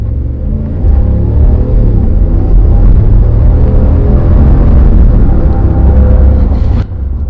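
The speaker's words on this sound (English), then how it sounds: "I'm going to accelerate pretty quick going up this hill" Inside a 2020 RAM 1500 Laramie with the 5.7 Hemi V8 accelerating hard uphill, a loud, deep engine rumble builds steadily and stays strong over several seconds, heard from the cabin with no talking.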